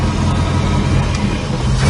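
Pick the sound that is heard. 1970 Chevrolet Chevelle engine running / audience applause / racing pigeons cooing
1970 Chevrolet Chevelle engine running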